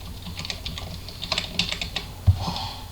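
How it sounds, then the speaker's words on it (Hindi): A router password being typed on a computer keyboard, quick irregular clicks of keys nearby, fairly quiet, with one louder thump near the end. "यहाँ मैंने राउटर 1 का पासवर्ड एंटर करना है"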